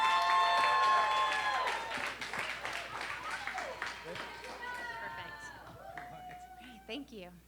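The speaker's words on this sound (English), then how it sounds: "And keep that applause going for Julia." Audience applause at a live storytelling slam fills the opening seconds, loud and dense, then thins out and fades as a speaker's voice and other voices take over for the rest.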